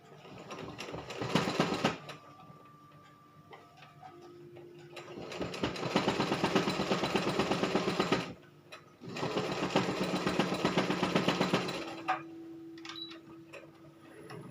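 Sewing machine stitching the back panel of a child's jacket, running in three loud bursts of rapid, steady needle clatter separated by short pauses, close and alone with no talk.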